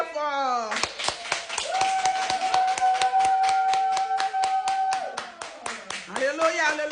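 A church congregation claps in a fast, steady rhythm while singing in praise, loud and close, with voices carrying a sustained tune over the beat.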